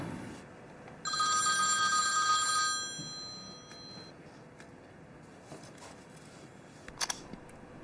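A telephone in a drama scene gives one long electronic ring lasting about two seconds, and a quiet room with a few soft clicks follows.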